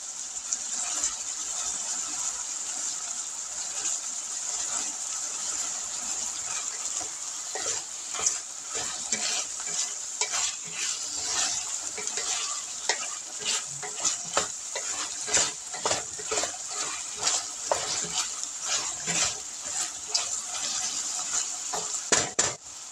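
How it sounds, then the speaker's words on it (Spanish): Tomato sauce fries in a pan, a bright hissing sizzle running continuously with irregular scraping and tapping from stirring, close and moderately loud, no one speaking. "Usted también sofríe la salsa de tomate o la pasta de tomate."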